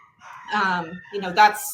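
A dog named Truman barks an alarm, two or three close, loud yelping bursts with a raised, almost crowing tone.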